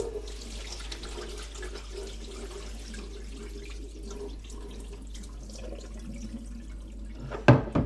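Water draining from washed rice for Korean pressure-cooker rice, a soft continuous trickle and splash at close range ending in a brief louder clatter, no talking.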